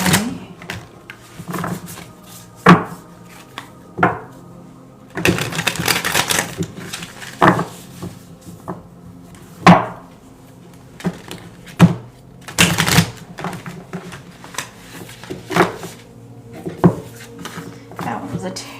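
Tarot cards are shuffled over and over in repeated bursts of crisp, close slapping and riffling, with irregular pauses between them. A low steady hum sits under it and occasional talk can be heard.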